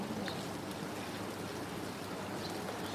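Heavy rain pours down in a steady dense hiss, constant and fairly loud throughout with no voices or pauses.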